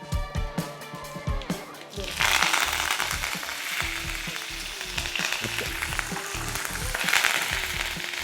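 Curry leaves hit hot ghee and erupt into a loud, steady sizzle and crackle that runs on unbroken after a few soft clinks, with a voice talking over the frying.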